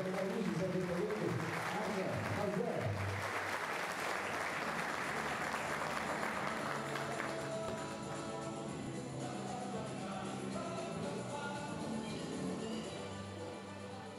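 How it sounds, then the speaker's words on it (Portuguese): A crowd applauds for the secretary at a sports memory ceremony, loud sustained clapping that gradually softens and fades into room murmur and faint talk. "Uma salva de palmas para a nossa secretária Maria José de Toledo."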